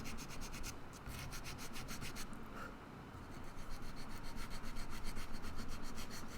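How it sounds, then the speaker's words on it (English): Steady abrasive rubbing of sandpaper on wood while carving the volute of a guitar neck, continuous back-and-forth strokes with a regular pulse, close and moderately loud throughout. "I'm sanding, aren't I?"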